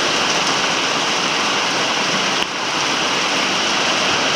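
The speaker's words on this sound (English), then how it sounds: "Hey, we got hail." Heavy rain with hail in a Northern California storm, a dense, steady hiss and patter of drops and ice striking surfaces outdoors, loud and continuous with no voices.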